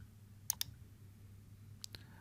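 Two pairs of sharp computer mouse clicks on a PC, close and crisp, separated by a pause, over a low steady hum.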